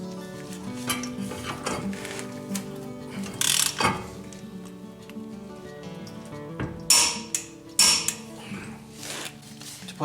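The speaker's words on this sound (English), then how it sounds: "So I'm going to torque that down." A ratchet wrench tightens the ball joint nut on a 1993–98 Jeep Grand Cherokee ZJ, heard as close metallic clicking and clanking strokes in bursts with louder knocks near the middle and end, with no speech.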